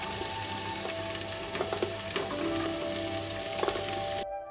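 Onion and capsicum sizzle in hot oil with finely chopped ginger and garlic for a vegetable kuruma, a loud, steady crackle with a few stirring clicks, close by, cutting off abruptly at the end.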